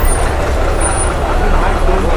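An MSRTC state transport bus pulls into a busy bus stand, its engine a loud, steady low rumble with broadband road noise throughout, while voices mingle in the background.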